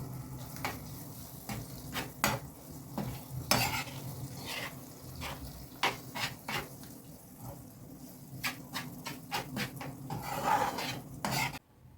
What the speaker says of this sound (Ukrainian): Все перемішую пару секунд і вимикаю плиту